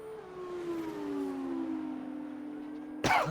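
A safety car alert siren sounds during an F2 race in a racing video game. It is a steady, wailing tone that slides slowly downward, and an engine drones beneath it. A brief burst of noise cuts in near the end.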